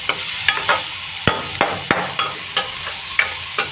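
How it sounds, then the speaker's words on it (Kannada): Food frying in a home kitchen pan is stirred in a steady rhythm, about a dozen sharp scrapes and knocks of the spoon against the pan over a low sizzle, close and clear with no talk. "ಜಾಸ್ತಿ ತಿರ್ತಾನೇ ಇರ್ತೀನಿ."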